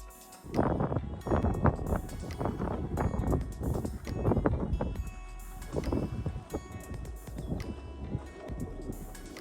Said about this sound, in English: if a little windy and a little flappy.